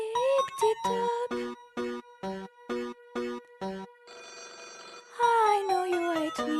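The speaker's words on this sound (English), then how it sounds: "That day I heard the phone." A telephone rings in a steady series of regular repeated bursts, clear and upfront, with a musical phrase swelling at the start and again near the end.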